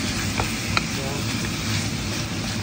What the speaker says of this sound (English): So now I'm going to brown the mince, let it cook through